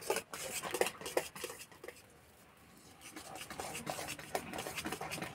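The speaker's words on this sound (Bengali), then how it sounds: "এবার ভেজে রাখা সুজি দিয়ে দেবো। এইভাবে অল্প অল্প দিতে হবে, নাড়তে হবে" Semolina fried earlier being stirred a little at a time into a pot of milk for a semolina and milk cake, a spoon scraping and clinking repeatedly against the pot, with a brief quieter pause midway.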